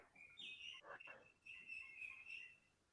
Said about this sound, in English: Oh, I'm hearing birds.